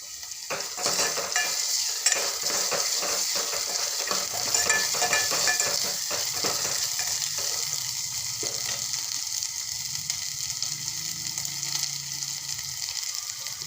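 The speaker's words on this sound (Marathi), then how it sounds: "आता बारीक चिरलेला एक टोमॅटो घालते त्याला पण छान असं मस्त दोन मिनटं असं शिजू देते" Finely chopped tomato cooks with fried spices in a pan for a spiced stuffed-potato dish, giving a steady, close sizzle with stirring scrapes throughout and no talking.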